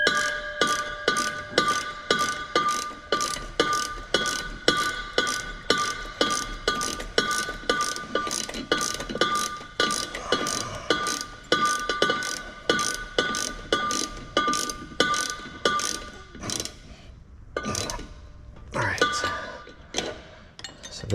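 A ratchet tightens driveshaft bolts on a 1989 Nissan 300ZX, clicking in a fast, even rhythm of close metallic pawl ticks that falter into a few slower strokes near the end, with some talking in between.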